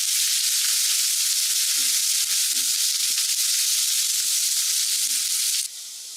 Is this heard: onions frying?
yes